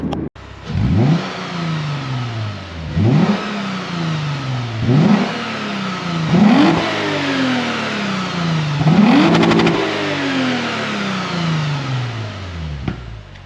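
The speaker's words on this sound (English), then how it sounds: "Now the engine's warm, I can afford to rev it a couple times for you" A Lexus IS250/350 engine with a Revel Medallion (Tanabe) exhaust revs hard five times in a row, each rev climbing quickly and then falling back, loud and close through the exhaust.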